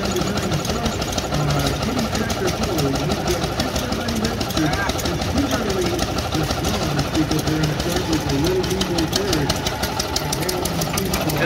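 Old belt-driven machinery at a 109-year-old sawmill running after a sprocket repair, a steady close rhythmic clatter and mechanical hum that continues unbroken throughout.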